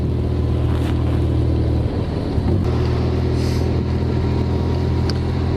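A car rolls along in bad weather with rain and wind, giving a steady, loud low rumble of road and engine noise that fills the whole stretch, with no talking.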